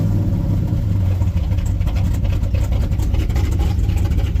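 A 1985 car with a swapped K20 engine runs steadily nearby, a loud continuous mid-pitched drone with a rough, even pulse and no break.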